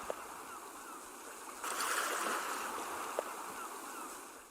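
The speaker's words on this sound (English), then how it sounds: "this is like the normal water sound you'd hear at a water feature" Steady trickling and splashing of a water feature, quiet and continuous, swelling slightly louder partway through with a couple of soft drips or clicks.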